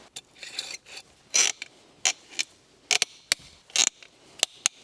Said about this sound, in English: we're going to start screwing that together with our 3mm Allen wrench